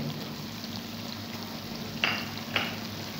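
Kasuri methi and cumin frying in a hot pan for chana dal, giving a steady low sizzle throughout with two brief sharper crackles near the end.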